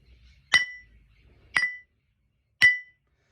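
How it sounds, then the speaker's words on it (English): Three sharp metallic clanks of a hammer on hot steel, evenly spaced about a second apart, each ringing briefly before fading into silence. "The hammer continues to rise and fall, striking the steel again and again with forceful measured strokes."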